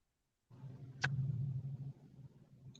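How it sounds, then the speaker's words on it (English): A Ford Foxbody convertible's engine gives a steady low rumble that starts abruptly and holds for a couple of seconds, with a brief sharp tick partway through and no voices. "I think your car might be so loud that it's killing the audio."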